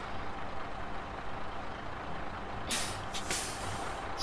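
A truck in Snow Runner idles with a deep, steady engine rumble, then a loud hiss of air brakes bursts out twice near the end.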